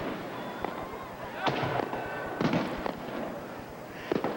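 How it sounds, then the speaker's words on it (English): Daylight fireworks at a 1985 Canada Games closing ceremony in Saint John, New Brunswick, pop and crackle in scattered bursts over a steady crowd murmur, sounding moderately distant. "they're all looking southward now to the fireworks."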